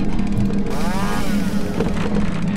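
A chainsaw in a Roblox game sputters and revs up to a steady, loud mechanical drone with a rising whine partway through, heard alone without voices.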